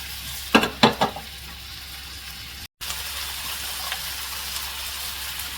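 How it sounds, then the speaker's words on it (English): Meatballs frying in a tablespoon of oil in a pan make a steady sizzle, opened by a quick cluster of loud spattering pops, with a momentary dropout midway. "In a pan, heat 1 tablespoon of oil and cook the meatballs."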